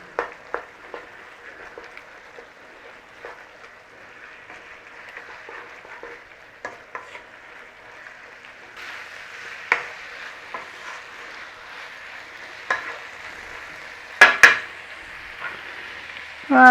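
A spoon stirs tomato puree into beef goulash in a pot, making soft scraping and sizzling with scattered sharp knocks against the pot, close and moderately loud, no talking.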